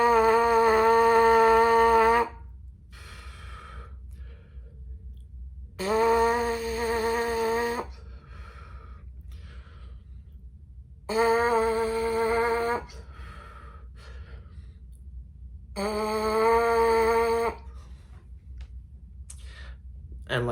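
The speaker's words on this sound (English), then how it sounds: "we're going to make that vibration sound, that farting sound with your lips." Buzzing of lips pressed together, practiced for horn mouthpiece playing, comes in four separate sustained buzzes of about two seconds each, split by quiet breathing gaps, close and fairly loud.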